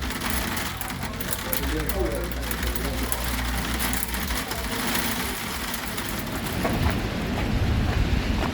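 Heavy hail pours down outside a pub in Bodø, Norway, in a loud, constant roar of tiny impacts, with a low rumble underneath throughout.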